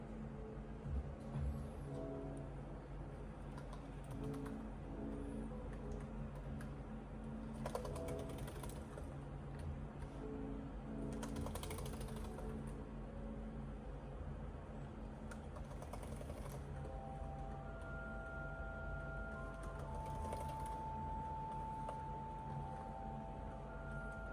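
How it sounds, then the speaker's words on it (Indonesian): Keys clattering in a typing test on an MSI Vector 16HX laptop keyboard, a steady run of quick, close, fairly quiet clicks lasting throughout, with no talking. "Selanjutnya kita tes keyboardnya."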